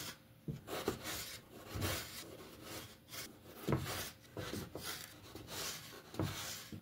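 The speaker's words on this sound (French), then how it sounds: "première étape, on coupe nos patates de la taille des frites qu'on veut" A knife cuts potatoes into fries on a board, making repeated dull chops and scraping strokes in an uneven rhythm, close and fairly quiet.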